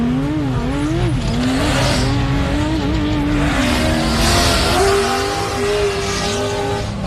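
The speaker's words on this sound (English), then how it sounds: "great sound there from the Joe Gibbs powered Mason truck" A Joe Gibbs powered Mason race truck at an off-road 4x4 adventure park endurance race, its engine loud and close, revving and changing pitch through gear changes over a rough, gravelly background.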